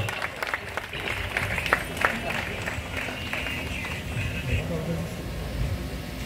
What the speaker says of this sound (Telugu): అందరు గట్టిగా చప్పట్లతో సార్ని సత్కరిస్తున్నారు.